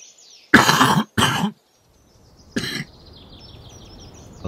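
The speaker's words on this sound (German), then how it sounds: "Ein Huster." Two harsh coughs in quick succession, then a third, shorter cough after a short quiet gap, close and loud against a faint background, no talking.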